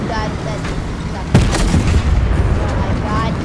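Gunfire in the video game Fortnite, with shots and bursts cracking out over a dense game mix, a sharp loud blast near the middle followed by rapid shooting, while game noise and voices run underneath.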